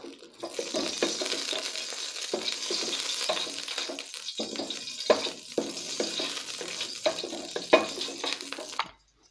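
Ghee sizzles steadily in a kadai over a lit stove fire. The frying hiss continues without a break for about nine seconds, with a few soft knocks and clinks from utensils along the way.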